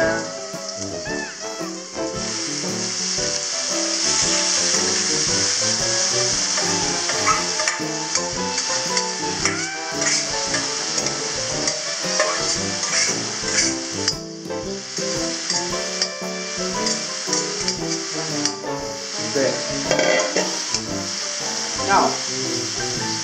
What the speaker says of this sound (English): Now that my onions are a bit transparent, we'll now add in the chopped up pork bits.